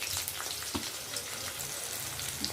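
Onions, green chillies and peas sauté in a pan for rawa upma, giving a steady close sizzle with faint stirring scrapes and no voices.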